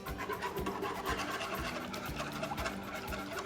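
A whisk beats quickly and rhythmically against a pan while cheese sauce for shrimp alfredo is stirred, with fast repeated scraping strokes and no one talking.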